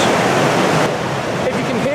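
A river at the Birks of Aberfeldy in Perthshire rushes over rocks with a loud, close, continuous churning roar.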